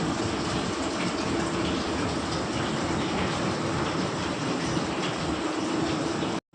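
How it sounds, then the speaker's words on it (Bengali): A train at Asansol railway station gives off a loud, steady rumbling roar that holds evenly for several seconds, then cuts off abruptly. "তো আমরা এবার পৌঁছে গেলাম আসানসোল রেল স্টেশনে"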